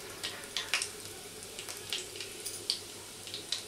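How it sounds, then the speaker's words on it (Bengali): Whole cumin seeds tempering in hot oil left in a kadai after frying yam and potato, a quiet sizzle with small crackles and pops scattered irregularly and close by. "কড়াইয়ের মধ্যে তেল আছে, সেই তেলেই ফোড়নে দিয়ে দিচ্ছি গোটা জিরে"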